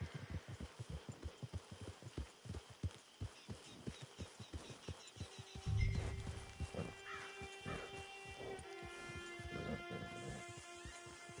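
A horse whinnies in a video game as its rider is told to fetch it at a camp, a shrill neigh rising over steady hoof clatter and a sustained tonal game score.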